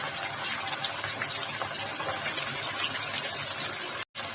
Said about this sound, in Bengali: মাছগুলো কড়া করে ভেজে নেব।